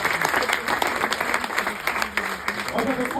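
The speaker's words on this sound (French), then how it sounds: "vous pouvez vous applaudir en tout cas" Audience applause at a stand-up comedy show in Lille, a dense, full crowd clapping loudly and continuously from start to finish with some crowd murmur mixed in.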